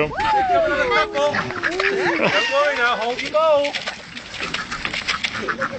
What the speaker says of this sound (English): The frenzy of ducks.